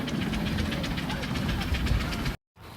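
A small kiddie train ride in a park chugs close by with a steady, rapid mechanical knocking rhythm, then cuts out abruptly near the end before faint background sound returns.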